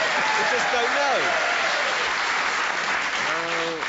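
A studio audience at a radio panel game breaks into steady applause that holds for the whole stretch. A voice speaks briefly underneath the clapping.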